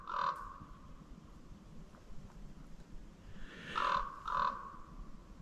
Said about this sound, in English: Yeah, that crow also makes that other noise.